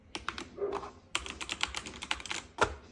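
A pink light-up keyboard in typewriter style being typed on: bursts of clacky keystrokes, irregular and close, with short pauses between runs and one louder final clack.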